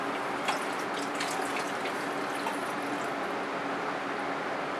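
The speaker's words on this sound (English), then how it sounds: "go ahead and add 1 more cup of water" Water runs and splashes continuously into a cooking pot, a steady rushing pour with no voices.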